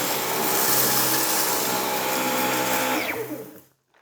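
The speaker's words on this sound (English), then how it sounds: "most of them got sucked up, but some of the rice still got left over." Dyson V15 Detect cordless vacuum sucking up spilled rice, a loud close steady whine that winds down and cuts off near the end.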